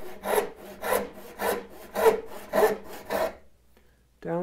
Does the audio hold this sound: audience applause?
no